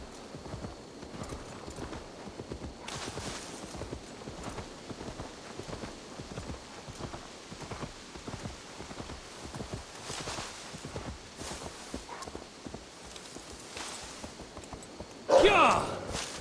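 Horse hooves clip-clopping at a steady walking rhythm in the video game Assassin's Creed Valhalla, continuous and moderately close, with people talking over the hoofbeats and a brief louder burst near the end.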